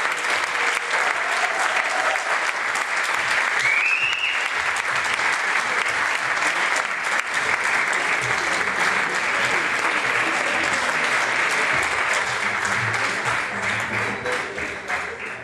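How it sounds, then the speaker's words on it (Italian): Audience at a charity event applauds to welcome a band onstage, a dense steady wash of clapping lasting the full length and easing slightly at the end. "E accogliamo con un grande applauso"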